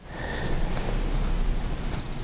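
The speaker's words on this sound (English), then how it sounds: "wait for that beep and you'll get the five second countdown" A glucometer gives short, clear electronic beeps near the end after a test strip is dipped, following a quiet stretch of low room hum.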